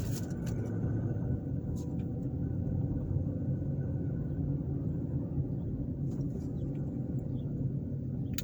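Car driving through the North Shore Triangle neighborhood of South Bend, Indiana, a steady low interior road rumble and engine hum heard from inside, with a few faint clicks and no talk.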